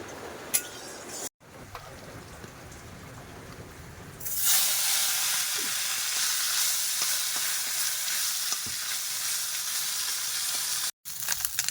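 Small river fish frying in a little oil on a gas stove, a loud steady sizzle that starts abruptly partway through and continues, with a few faint clinks before it.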